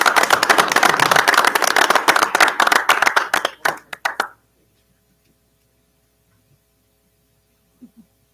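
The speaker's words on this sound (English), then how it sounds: "give him a big round of applause for the Superintendent Staff Award" An audience at a school board meeting applauds a staff award winner, a dense burst of clapping that thins into a few scattered claps and stops abruptly, leaving near silence over a faint room hum.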